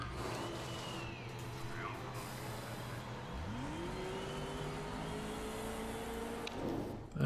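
A race car engine from the Motorsport Manager game drones steadily at a distance, then rises in pitch as it accelerates through a flying lap on soft tyres, holding a high whine until a brief louder burst at the end.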